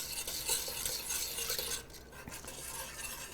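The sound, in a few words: whisking vegan hot chocolate with vanilla extract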